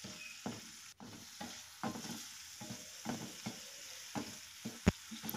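Tomatoes fry in a pan with sautéed chicken, a soft steady sizzle broken by repeated scraping stirs of a spatula at an uneven pace, fairly close and quiet, with no talking.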